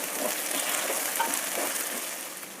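Coriander leaves fry in hot oil while an upma pre-mix is prepared, giving a steady, dense sizzle that holds level throughout with a faint stir or scrape midway and no talking.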